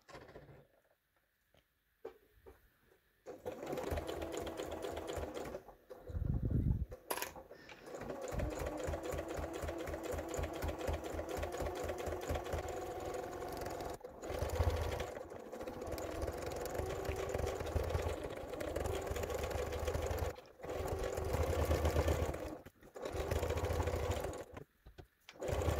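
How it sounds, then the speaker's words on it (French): Sewing machine stitching all around the edge of a heart-shaped fabric sleep mask to close the opening, running in long steady bursts with brief pauses between, close and loud with no talking. "Où on coud tout autour."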